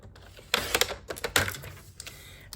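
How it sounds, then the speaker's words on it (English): A paper trimmer slices paper end to end, heard as a short run of close, crisp clicks and scraping snaps, quiet overall. "So then just cut on your trimmer"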